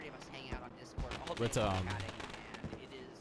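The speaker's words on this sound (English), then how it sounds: "what you're hearing there is actually what's it called? Fireworks." Fireworks crackle and pop in the background after an oval race in the sim racing game iRacing, a dense run of sharp bursts sitting under a voice talking over them.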